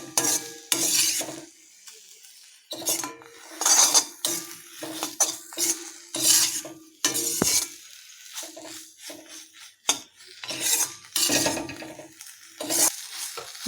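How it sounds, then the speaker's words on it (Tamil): Spoon scraping and clattering in a pan as egg is stirred through jilebi fish chukka, with repeated close metallic scrapes and knocks in an irregular rhythm, lightly sizzling underneath. "இப்போ முட்டையை நல்லா எல்லாத்துலையும் மிக்ஸ் பண்ணி விட்டுடலாம்."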